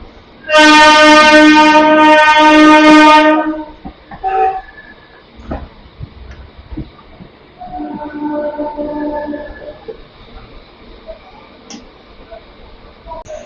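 A Howrah–Digha local train sounds a long, loud horn blast up close, then rolls along in parallel with softer rumbling and a second fainter horn, with brief talk mixed in.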